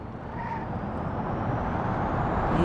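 An electric car mod in BeamNG Drive accelerates, giving a steady, broad road-and-motor rush that builds gradually in loudness with no voices over it.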